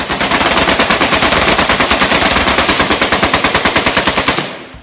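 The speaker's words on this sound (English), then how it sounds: "the Maxim is the world's first fully automatic machine gun" Maxim machine gun, the first fully automatic design from 1884, firing one long sustained burst of rapid, evenly spaced loud shots that stops abruptly near the end, with no talk.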